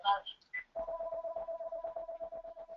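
Telephone tones from an unmuted participant's phone on a conference call, a brief series of beeps followed by a steady, rapidly pulsing electronic ring that repeats for a couple of seconds, fairly faint.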